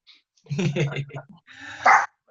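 A dog barks indoors during an afternoon lecture, with a few close yips and barks mixed in with nearby talking.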